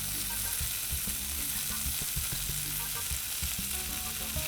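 Chicken wings sizzling on a Blackstone 22-inch griddle, a continuous bright crackle and hiss of frying fat with occasional scraping, steady and close with no voices.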